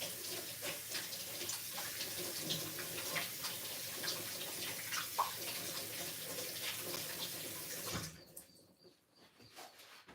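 Tap water runs steadily in a home kitchen while hands are washed during cake baking, a continuous broadband hiss that stops abruptly near the end.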